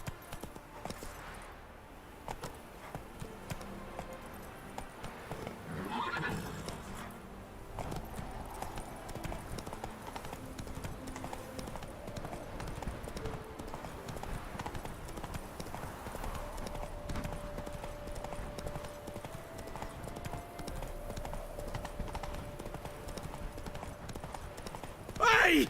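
Horse hooves clip-clop steadily in The Witcher 3 game world, a continuous rhythmic trot under a music score, with a voice speaking briefly.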